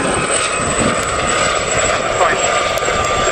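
A Westland Gazelle helicopter flies an airshow display, a loud continuous rotor and turbine roar with a steady high whine across the whole stretch, with a voice talking over it.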